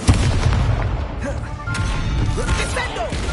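Incendio fire spell cast in Hogwarts Legacy during a fight: a loud fiery burst and crashing impact, dense and close, amid continuous combat noise and a shouted voice.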